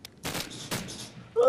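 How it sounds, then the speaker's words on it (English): Gunfire in the Minecraft video game, two bursts of rapid shots about half a second apart and a shorter burst at the end, fairly loud, with no talk over them. "Hey, stop shooting at your teammate."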